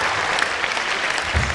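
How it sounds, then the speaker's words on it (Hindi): A live comedy show audience claps in a brief, dense burst of applause, loud and even throughout. "तालियां बहुत कमजोर हैं और जोर से बजा।"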